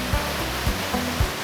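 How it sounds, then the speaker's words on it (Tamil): Waterfall water rushing steadily at Geiranger fjord in Norway, a continuous broadband roar, not forceful but loud and babbling, with a few low thumps underneath. "அவ்வளோ ஃபோர்ஸாக தண்ணியோட இல்லை, ஆனால் நல்ல சத்தமாக சலசலத்தாக போய் கொண்டிருக்கு"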